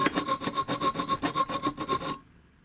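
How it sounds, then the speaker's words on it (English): A file rasps back and forth across a copper pipe in quick, even strokes, about a dozen close scraping passes before stopping abruptly into quiet. "filing the copper pipe then."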